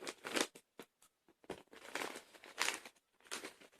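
A plastic bag of electronic components is being pulled and crinkled while someone struggles to open it, giving faint, irregular crackling and rustling bursts close by.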